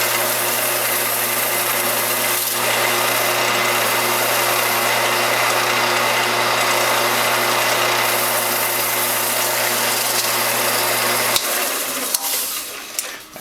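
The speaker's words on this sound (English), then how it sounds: "And denib it with a scouring pad." A scouring pad rubs against a hackberry bowl spinning on a wood lathe, denibbing the finish: a steady, loud motor hum with broadband hiss runs continuously for about eleven seconds, then the tone drops away as the lathe winds down.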